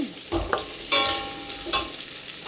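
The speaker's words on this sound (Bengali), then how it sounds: "ভাজতে ভাজতে অনেকটা গলে এসছে।" Ingredients for posto, with chilli powder added, fry in a pan: a soft sizzle under close spatula scrapes and a few sharp utensil clatters against the pan.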